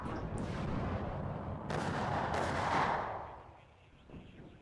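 Artillery fire in the WARNO real-time strategy war game, heavy booming blasts with long rumbling decay and overlapping impacts, loud and close, fading out toward the end.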